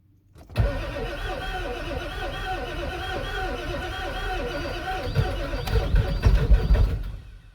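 A 7.3L Powerstroke diesel that has sat unused cranks over continuously for about seven seconds, a close, loud, rhythmic starter churn that grows rougher near the end without fully catching.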